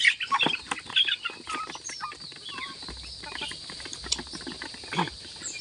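Chickens cluck and chatter as they are fed, in scattered, overlapping calls close by, with some irregular peeps and scratching sounds throughout and no speech.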